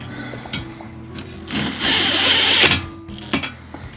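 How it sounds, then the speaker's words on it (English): A power driver whirs in a loud burst lasting about a second as a Tapcon screw goes into the wall for a Sanus TV wall mount, with softer mechanical clicks and handling noise before and after. "These are Tapcon screws, so we don't want to put them in, take them out."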